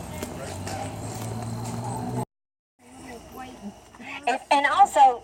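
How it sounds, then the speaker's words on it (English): A horse walking along outdoors, a muffled clip-clop of hooves in the first couple of seconds, then a short silence and people talking close by. "Oh, there's a horse."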